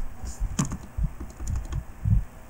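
Keys pressed on a computer keyboard while building a first-job résumé, a few sharp clicks with one stronger keystroke near the start, close and clear over low room noise.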